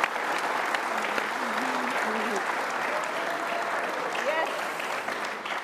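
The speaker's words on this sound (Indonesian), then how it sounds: "Kita tepuk tangan dong" Studio audience applause fills a televised Indonesian talk show as a national team player is welcomed, with steady, dense clapping throughout and a host's voice speaking over it.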